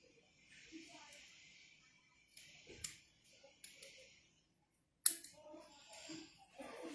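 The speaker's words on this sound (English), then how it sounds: "I don't have my scissors here." Scissors snipping through a paper die cut, a handful of quiet clicks and cutting strokes in a tabletop craft setting, faint and close, with soft rustling between cuts.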